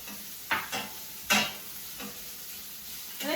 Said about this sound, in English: So we're going to go ahead and stir that around just for about a minute just to incorporate everything.